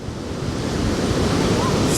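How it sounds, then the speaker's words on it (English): Small ocean waves crash and wash steadily over the shore near a pier's pylons, a continuous close surf roar with a slight wind rush that swells toward the end. "I'm just going to catch a few of these little waves crashing over"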